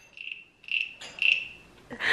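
Wooden frog toy rasped with a stick to imitate a frog croak, giving three short ratcheting rasps spaced across the moment, close and fairly quiet, with a brighter final burst at the end.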